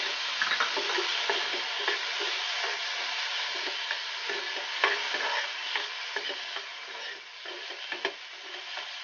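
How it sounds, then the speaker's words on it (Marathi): Tomatoes go into fried masala in a pan during a Malvani-style matar paneer recipe, bringing a continuous bright sizzle with frequent scraping stir strokes close up and no voices. "आता मसाला थोडा भाजलेला आहे, आता त्यामध्ये आपल्याला टोमॅटो ऍड करायचा आहे."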